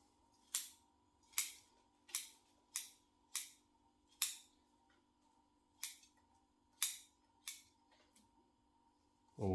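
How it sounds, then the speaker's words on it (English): Sharp scissor snips cutting the canopy of a Mallee bonsai, about ten crisp close clicks at an uneven steady pace with short pauses, over a faint low hum and no talk. "grab a handful and just cut it all the same length"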